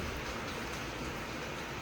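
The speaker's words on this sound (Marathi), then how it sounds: "आणि पाऊस चालू झालाय." Steady rain falling heavily, a dense continuous hiss filling the short stretch with no gaps, close and even throughout with no voices.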